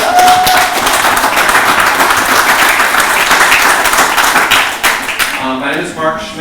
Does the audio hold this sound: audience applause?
yes